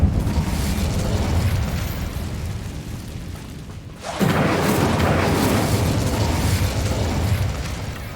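Incendio fire spell from the video game Hogwarts Legacy, a loud sustained whooshing roar with a brief dip partway through before surging again, dense and alone with no voices.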